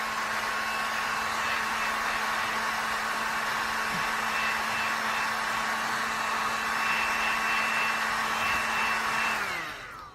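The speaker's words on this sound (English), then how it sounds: "I'm going to run the dryer just for a second" A hair dryer blows steadily and close for about nine seconds to dry milk paint on a piece of furniture, a constant whirring roar that cuts off and winds down at the end.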